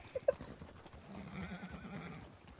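Horses in a Western roleplay game setting near muddy ground, with a couple of sharp hoof clops followed by a low, rumbling snort or whinny, faint and set against a soft ambient background.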